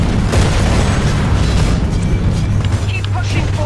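A rocket explodes in Titanfall 2 with a heavy, rumbling boom amid continuous loud combat noise, while a person talks over the game.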